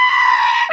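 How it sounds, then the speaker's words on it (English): A goat bleats once in a loud, sustained, wavering cry that lasts under a second, with no talking. "Is that what a goat sounds like?"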